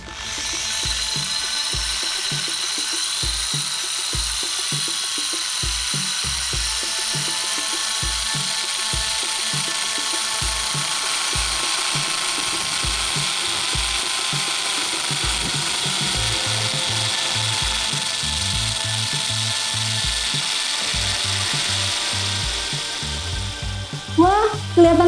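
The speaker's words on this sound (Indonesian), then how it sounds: "kelihatan banget nih Pak Riki, proses cuttingnya sangat halus ya Pak ya" A diamond hole saw grinds through granite with a constant high whine over rhythmic rumbling chatter, close and loud for a long stretch.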